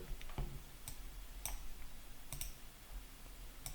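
A computer mouse right-clicked several times in software, producing sharp, faint ticks spaced irregularly over a quiet room background.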